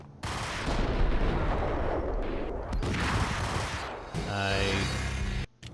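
Rapid bursts of gunfire in the video game Max Payne, loud and dense with echoing blasts, then a brief pause and more shots, while a player talks over them.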